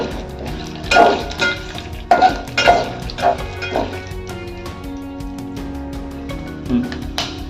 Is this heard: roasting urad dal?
yes